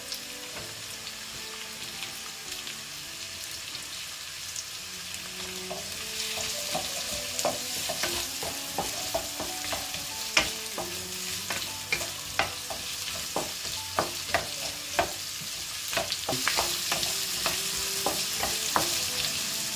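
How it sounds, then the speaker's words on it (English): Chopped onions, ginger and garlic fry over high heat in a pan for cauliflower Gobi Manchurian, a steady close sizzle broken by repeated scraping and clinking stirs, with no talking. "Stir the onions and the ginger and garlic till it should not turn too light brown, but it should be cooked as well"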